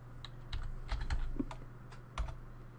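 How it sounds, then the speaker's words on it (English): Quiet, close typing on a computer keyboard entering a command at a command prompt, with a short burst of scattered keystrokes over faint background hum. "So I'm going to type binary."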